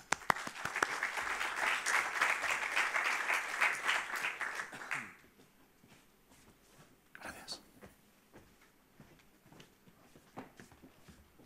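Warm applause from a forum audience at a Banco Sabadell sports-industry innovation event for a guest, a few seconds of dense clapping that stops abruptly, followed by quieter room sounds and someone speaking.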